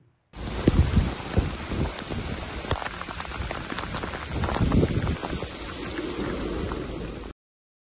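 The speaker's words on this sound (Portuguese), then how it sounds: "mostrando exatamente a chuva lá no Rio Grande do Sul" Heavy rain pours in Rio Grande do Sul as a steady, dense roar, with gusty wind buffeting the microphone and swelling at times; no voices.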